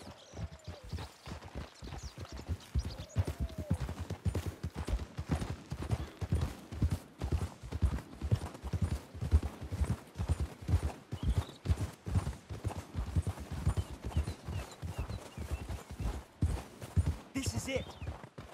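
Horse hooves clip-clopping at a steady walking rhythm in the video game Red Dead Redemption 2, close and continuous throughout, with faint voices talking now and then underneath.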